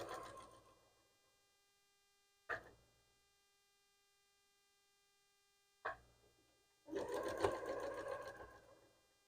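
A sewing machine stitches a regular quarter-inch quilting seam for a log cabin block, with two short whirs and then a longer fast, steady run over a faint mains hum.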